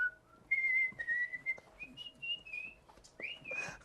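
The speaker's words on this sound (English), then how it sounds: "The whistle polka." Someone whistles a lively, bouncy polka melody up close at a street festival, the notes clear and sliding between pitches.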